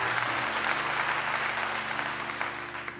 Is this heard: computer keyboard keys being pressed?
no